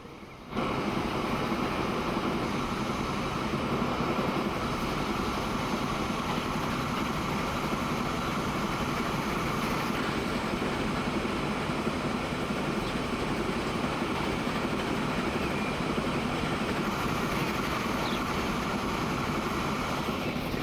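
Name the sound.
train running in video game Transport Fever 2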